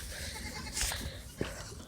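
A goat bleats on a goat farm, a brief nasal call standing out over steady outdoor background noise, followed by a short sharp knock.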